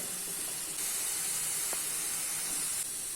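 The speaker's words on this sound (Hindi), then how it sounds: "इसको 2 से 3 मिनट तक मीडियम फ्लेम पे अच्छे से फ्राई कर लेते हैं" Onion and green chili fry in a pan over a medium flame, giving a steady, even hiss of sizzling oil, close and moderately loud, with no talk.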